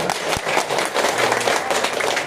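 Applause from participants at a master of ceremony training session, steady clapping from a room full of people lasting the whole stretch, fairly loud and close.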